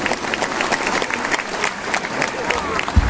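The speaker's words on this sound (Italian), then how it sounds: "grande applauso ancora" Concert audience applauding at a folk music performance in Lenola, Italy, dense sustained clapping throughout with crowd voices mixed in.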